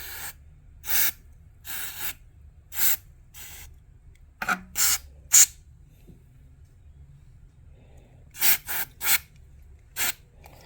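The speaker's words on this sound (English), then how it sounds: "I'm going to use some Radio Shack electronics cleaner to spray on these socket casings" Radio Shack electronics cleaner sprayed onto socket casings of a Leslie 122 amplifier in short, sharp hissing bursts, about a dozen separate spritzes spaced irregularly, close and clear in a quiet room.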